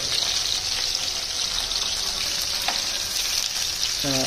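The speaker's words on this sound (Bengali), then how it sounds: "এখানে তেল হিসেবে ব্যবহার করেছি আমরা 1 নম্বর সরিষার তেল দিয়ে এটা ভাজছি।" Food sizzles steadily in mustard oil as two brothers cook a home dinner, a close, continuous hiss with no talk and a few faint stirring clinks near the end.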